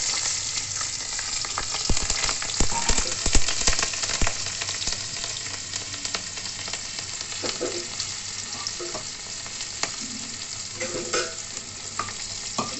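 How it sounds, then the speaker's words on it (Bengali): Nigella seeds and green chillies sputter and sizzle in hot oil in a kadai, a loud, steady crackle running alone throughout with scattered sharper pops. "কড়াতে ওই তেলেই আমি কালো জিরে, কাঁচা লঙ্কা ফোড়নে দিয়ে দিলাম।"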